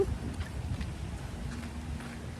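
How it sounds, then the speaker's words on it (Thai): Steady rain falling during a drive, a continuous broadband hiss with low rumble from the car, constant and moderately loud with no voices. "ฝนตกจ้า"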